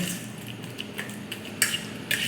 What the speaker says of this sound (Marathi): अशी या चमच्याच्या सहाय्याने पटकन अशी ती मॅश होतात